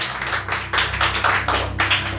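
A church congregation claps in unison, a regular rhythm of about eight strong beats over two seconds, with a low hum running underneath.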